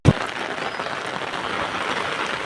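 Rain falls steadily and fairly loudly on a road during a traffic jam, a dense even hiss after a brief knock at the start.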